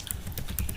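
Keys on a computer keyboard patter in quick light taps while a password is entered, close and soft, a brief run of clicks with no voice.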